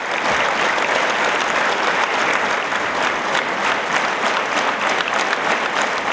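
An audience applauds after a gala concert with a chamber orchestra and singers, a dense, loud, sustained wall of clapping that continues unbroken throughout.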